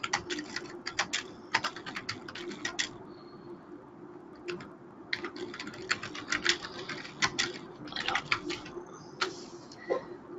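Typing on a computer keyboard, with rapid clusters of light clicking keystrokes in bursts separated by brief pauses, close and clear over a quiet room hum.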